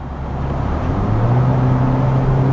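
A Hyundai Veloster Turbo hot hatch pulls away, its engine a low steady hum that swells slightly as it gets moving, close and continuous with road noise underneath.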